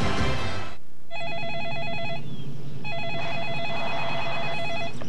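A telephone rings in a home during an IU versus Illinois basketball broadcast, two trilling electronic bursts separated by a short pause, loud and close.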